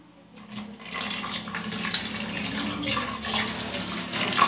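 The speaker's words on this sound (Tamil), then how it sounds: "இப்போ நான் இந்த பதத்தில் தேங்காய் பால் விட போகிறேன்" Thick first-press coconut milk pouring into a cooking pot, a steady liquid gush and splash that runs continuously and fairly close, with no talking over it.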